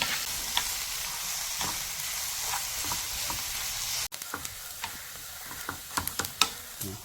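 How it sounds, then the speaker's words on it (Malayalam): Bitter gourd fries in a pan with a steady, close sizzle, broken by scraping stirs and scattered spatula taps, with a brief cut midway. "ഇനി നമുക്ക് ഇളക്കി നല്ല പോലെ ഒന്ന് ഫ്രൈ ആവട്ടെ"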